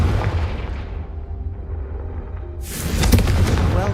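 Confringo fire spell bursts in the Hogwarts Legacy video game, a dense booming explosion swelling in at the end over a low rumbling battle bed, loud and close.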